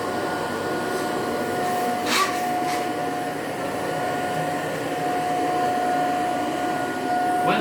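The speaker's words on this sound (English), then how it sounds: "use the nozzle to slide on the floor to vacuum all areas that you need to" Vacuum cleaner running while its nozzle slides over the floor, a steady whining motor hum with a constant tone and brief swishing strokes, close and with no talk.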